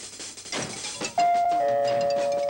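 A doorbell chimes in a Dr. Seuss cartoon, a clear sustained tone that rings on after a burst of busy background sound, loud and close.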